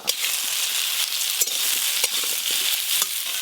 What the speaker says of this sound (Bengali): শুধু এপিড ওপিড নেড়ে একটু হালকা করে ভেজে নিয়েছি